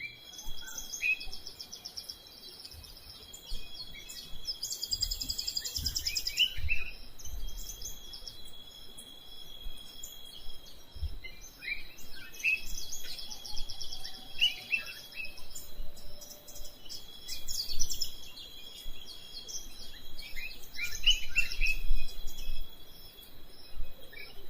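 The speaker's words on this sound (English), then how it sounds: "I take the opportunity to look for some birds that I've been hearing." Scattered bird calls and chirps ring out over a soft bed of insect buzzing, moderately distant in a quiet outdoor setting in Uganda.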